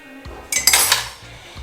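Dishes and cutlery clatter and clink close by as a home kitchen is tidied, a loud burst of jangling metal and crockery after a short pause, with no voices.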